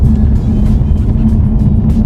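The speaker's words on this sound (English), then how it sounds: "Just going to give it some acceleration." An Audi/VW car with freshly replaced rear wheel bearings accelerates on a test drive, its engine giving a loud, steady low rumble heard from inside the cabin.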